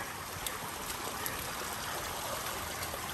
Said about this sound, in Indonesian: Wih, ini airnya netes-netes dari atas. Ini bukan hujan sih. Dari atas batunya.